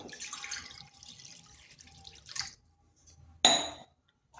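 Water pours and splashes steadily into a kadai, trailing off, then a sharp metallic clank rings out near the end.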